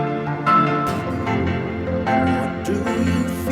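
A man sings a cover of a song, a sustained, melodic vocal line in a fairly quiet, close recording.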